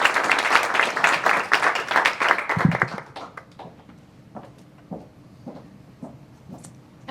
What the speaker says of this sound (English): Let's give an applause for the Robin Hood in AI.